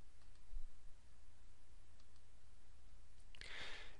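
Faint, sparse computer mouse clicks on buttons in Quick Terrain Modeler terrain and point-cloud software sound in a quiet room, ending in a brief, brighter burst of clicking.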